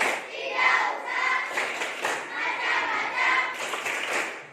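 Group of children clapping a patterned rhythm during a classroom icebreaker, uneven bursts of hand claps with young voices mixed in.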